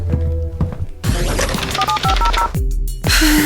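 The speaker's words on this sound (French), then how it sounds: "Oui, le téléphone de la prison est dans le hall." Sharp button presses and short dialing tones on a prison telephone inside a cartoonish game, mixed with thunks and clicks over a few seconds.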